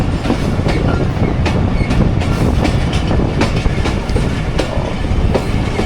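Jaffar Express rolls along the tracks between Attock and Rawalpindi with a loud, close rumble and repeated rhythmic clicks of wheels over rail joints, no voices present.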